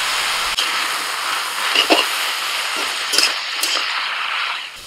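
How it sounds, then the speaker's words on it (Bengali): Boiled cabbage leaves tossed into a pan of fried onion, garlic and green chilli give a steady, loud sizzling hiss throughout, with a few clinks of a utensil against the pan. "পেঁয়াজ রসুন কাঁচা লঙ্কা ভাজা হয়ে গেছে, সিদ্ধ করা কপির পাতা দিয়ে দিচ্ছি।"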